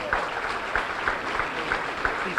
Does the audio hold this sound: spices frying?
no